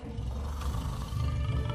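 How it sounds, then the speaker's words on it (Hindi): A tiger roars in a forest camp at night, a deep, sustained rumbling growl that holds steady and loud for the whole stretch without a break. "महाराज, बाघ की गर्जना सुनाई दे रही है।"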